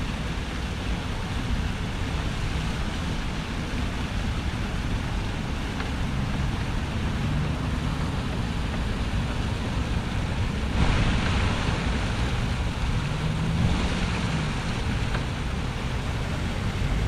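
A small stone brook flows beside a barn, heard as a steady, fairly quiet rushing hiss with no clear changes, partly blended with outdoor wind noise and no talking.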